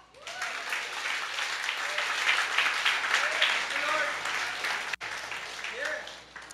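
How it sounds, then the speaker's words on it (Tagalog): During a Sunday service, a congregation claps in a steady, dense round of applause, with voices and faint cheers rising through it, dipping briefly near the end before carrying on. "Pumalakpak."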